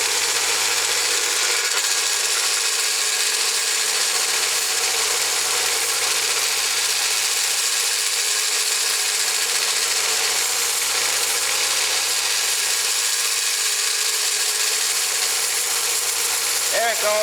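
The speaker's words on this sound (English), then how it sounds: "when I put this ring on my finger and I touch it against the belt sander as it's moving, it'll self-rotate and self-grind." A copper ring rotates against a running belt sander, giving a loud, continuous abrasive hiss and motor drone throughout the stretch.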